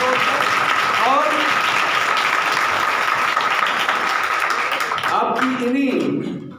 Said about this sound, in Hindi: आपकी इन्हीं मुस्कुराते चेहरों और तालियों की गूंज में मैं एक बार फिर से दावत दूंगा पादरी रोहिल राजा साहब को।